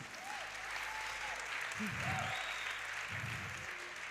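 Church congregation applauding in a steady, dense burst through the whole stretch, with music and faint voices running underneath.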